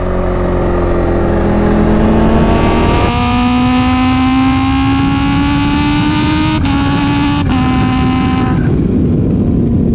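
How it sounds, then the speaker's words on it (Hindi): A Kawasaki Ninja H2 motorcycle engine revs hard on the throttle, a loud, sustained whine that climbs in pitch and shifts sharply a few times, close and continuous throughout. "मैंने सिर्फ थ्रॉटल दिया फिर से"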